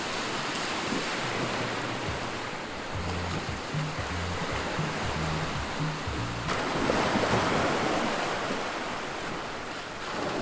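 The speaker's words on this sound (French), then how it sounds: "le bruit des vagues s'échouant sur le rivage." Waves wash continuously onto a seashore near a fishing village, a broad steady roar of surf with a fuller surge breaking partway through.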